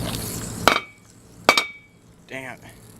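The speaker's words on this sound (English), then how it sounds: "I'm gonna spin this fidget spinner and break the glass with my bare hands" A spinning fidget spinner strikes a drinking glass in two sharp, ringing clinks about a second apart, followed by a brief voice.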